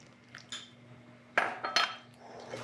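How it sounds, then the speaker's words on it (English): A spoon stirs homemade buttermilk into soda bread dough in a bowl, giving a few sparse, quiet clinks and scrapes against the bowl. "And then we're going to stir in the buttermilk."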